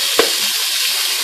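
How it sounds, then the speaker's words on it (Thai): Ground pork dropping into a hot pan with garlic, one brief sharp sizzle burst followed by a steady close frying hiss. "we have to put this ground pork okay we're gonna squeeze that out"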